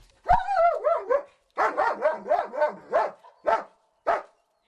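A rescue dog barks repeatedly at close range, a series of loud, throaty barks in short bursts with brief pauses between them, signalling a find during a search.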